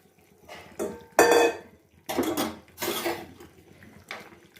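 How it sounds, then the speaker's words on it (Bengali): Lentils seasoned with salt, turmeric and green chilli go into a metal pot in several short clattering, scraping bursts of utensil against pot, separated by brief quiet gaps, close by with no voices. "এখন আমি এই ডালটা দেখো নুন হলুদ দিয়ে কাঁচা লঙ্কা দিয়ে রেখে দিয়েছিলাম ডালটা দিয়ে দিলাম"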